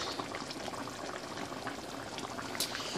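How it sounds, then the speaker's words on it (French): Haitian eggplant stew with meat and vegetables simmering in a pot, a soft, steady bubbling and gurgling, faint and close, unbroken for a few seconds. "quand ça bouille encore un peu, moi, j'aime bien quand c'est moins liquide que ça encore"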